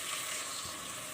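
Vegetables lightly frying in a pan, a brief soft continuous hiss of sizzling oil, faint and steady, no talking.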